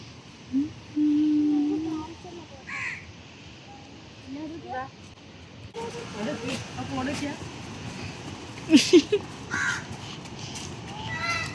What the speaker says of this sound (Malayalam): ഒരു കാക്ക ചൂണ്ടയിടണ്ട്.